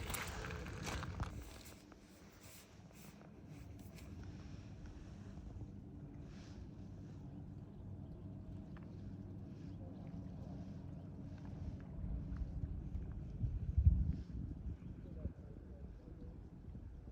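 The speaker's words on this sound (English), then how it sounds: "I hear the boat. I don't see the boat." A boat passes somewhere out on the water, its low engine rumble mixed with wind buffeting the microphone and the wash of waves, steady and fairly distant.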